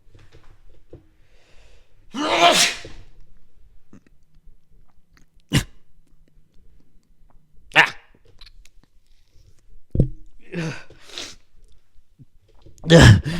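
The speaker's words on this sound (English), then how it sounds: "I'm going to sneeze" A single sneeze bursts out early, followed by scattered short clicks, sniffs and breathy noises in an otherwise quiet room.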